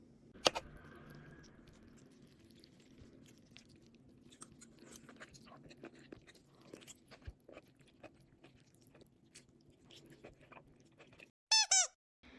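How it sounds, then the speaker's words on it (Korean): Someone eats konjac noodles in soy milk with cucumber, sesame and salt, producing close, soft chewing and slurping with small squeaks and crunches throughout, and no talking. "저녁 곤약면에 콩물이랑 오이, 깨, 소금 넣어서 먹을 거예요."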